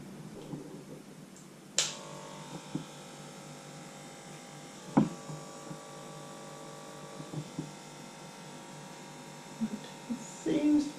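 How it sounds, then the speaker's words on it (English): An electric hair clipper used for a home haircut switches on with a click and runs as a quiet, steady buzzing hum, with occasional sharp clicks and handling knocks. "Make sure your clipper is operating correctly."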